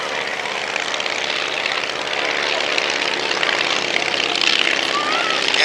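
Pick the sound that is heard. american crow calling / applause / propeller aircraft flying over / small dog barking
propeller aircraft flying over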